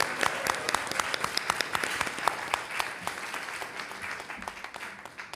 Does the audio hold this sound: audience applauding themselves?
yes